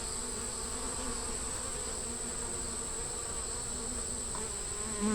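A steady, dense buzzing of many bees fills the air, close and continuous without pause.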